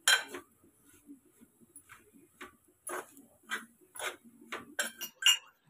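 Garlic chili powder for Telangana-style garlic karam being stirred in a bowl, with a series of light clinks and taps of a utensil against the bowl, irregular and close, with no talk.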